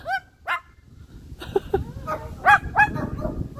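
A dog named in the setting barks several times while meeting other dogs, sharp close barks spaced through the clip, with a person talking softly between them.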